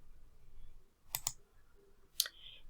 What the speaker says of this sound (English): I'm going to go ahead and click Text.